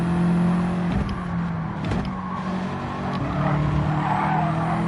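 A Gr.4 race car in Gran Turismo 7 skids off the track onto the grass at Tokyo Expressway South, with loud, sustained tire squeal over the engine note for several seconds.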